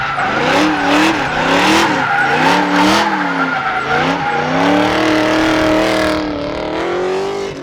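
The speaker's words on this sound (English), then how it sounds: "do a bunch of burnouts, do a bunch of donuts" A rebuilt junkyard Ford Mustang GT does burnouts at a drag strip. Loud, continuous tire squeal wavers up and down with a howling engine, then settles into a steadier screech for several seconds.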